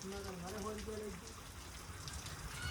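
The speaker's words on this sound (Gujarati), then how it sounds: "એટલે વરસાદ પડે છે જોરદાર" Steady rain pours down in a dense, even hiss, with a voice speaking briefly near the start.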